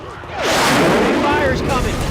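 A single heavy gunshot in Left 4 Dead 2, with a loud, booming report swelling and then ringing out over about two seconds as a rumbling tail.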